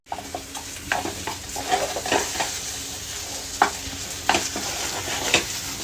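Onions frying in a pan for a non-vegetarian dish, with a steady sizzle and scattered scraping knocks as a utensil stirs them, close and clear with no talking.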